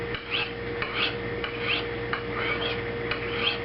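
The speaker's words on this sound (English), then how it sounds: "no matter how I'm sharpening a knife, I always feel it just out of habit" A knife blade is drawn in repeated strokes across a ceramic sharpening stone, a quiet rasping swish about every half second, with a faint steady hum beneath.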